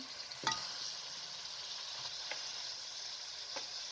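Onions frying in a karahi are stirred with a spoon, giving a steady soft sizzle with a few scraping clicks from the spoon against the metal.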